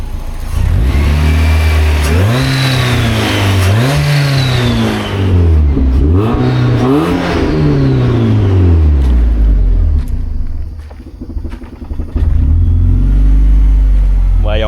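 A supercharged Mazda MX-5 Mazdaspeed B-Spec is revved hard close up, several rising and falling engine sweeps followed by a rough idle, with voices faintly underneath.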